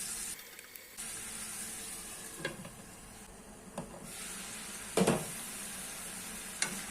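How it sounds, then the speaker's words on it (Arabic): Chicken breast strips fry in butter with a steady low sizzle, broken by a few scraping stirs of a utensil in the pan, quiet and close. "داك الدجاج ديالنا خاصو يتحمر مزيان في ديك الزبيده"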